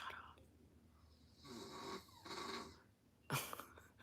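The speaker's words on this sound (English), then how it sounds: "He's snoring." A man snoring in a quiet room, heard as a few drawn-out rasping breaths followed by a sharper snort, faint and close with no talk over it.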